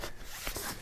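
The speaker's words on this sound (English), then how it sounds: "So we'll just start zipping." A rooftop tent zipper is pulled along in one quick, close, continuous run, with a raspy ripping texture.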